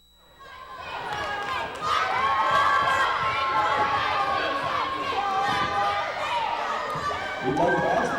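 A large, noisy crowd at a game cheers and shouts continuously and loudly, a dense roar with individual voices rising through it.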